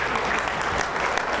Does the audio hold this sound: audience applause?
yes